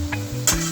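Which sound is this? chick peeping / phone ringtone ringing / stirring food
stirring food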